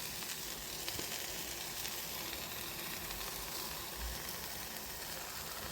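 A slice of bread, buttered side down, sizzles in a hot pan with a steady, close frying hiss throughout and no talk.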